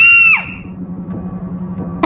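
A woman lets out a single sharp, piercing scream after her finger is caught in a sewing machine; the cry drops off quickly, leaving a low hum and throb beneath.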